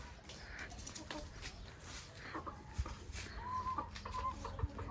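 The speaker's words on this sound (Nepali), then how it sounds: "यहाँ कुखुराहरू छ गाइजहरू" Farmyard chickens cluck near and far in rural Nepal, a scattered series of soft clucks and short calls over faint background noise and low, distant voices.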